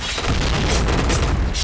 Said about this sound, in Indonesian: Aduh, udah kena granat.